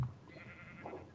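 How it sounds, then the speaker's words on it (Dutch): A brief, faint bleat from a Minecraft sheep in survival mode, a single soft call heard alone. "er zijn nog schapen lopen daar"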